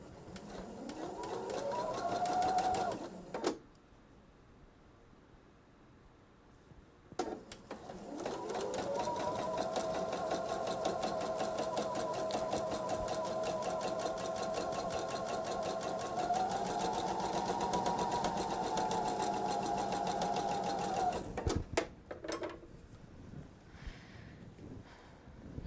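A sewing machine stitches quilt seams for a Veterans Day quilt, running in a steady sustained whir for a few seconds, pausing, then running again in a long continuous stretch before stopping, close and fairly loud.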